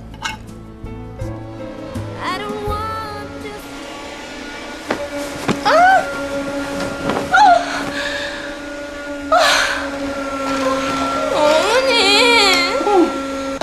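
A baby cries repeatedly in a Korean home during a family argument, with rising wails and whimpering gasps heard close by. Adult voices speak over and between the cries.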